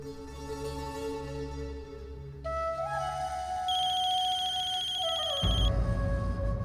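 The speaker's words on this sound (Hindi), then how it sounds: "ये जारा हमें क्यों फोन कर रही?" A telephone rings repeatedly in a domestic drama scene, a steady electronic ringtone with a melodic tone pattern over low background music, fairly loud and close, with no talking.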